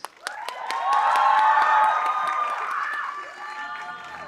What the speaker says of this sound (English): let us all give a huge round of applause to our finalists